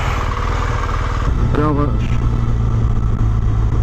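A 2017 BMW R1200GS Exclusive motorcycle engine runs close by with a throbbing, pulsing rumble that deepens and grows steadier partway through, while someone speaks briefly over it.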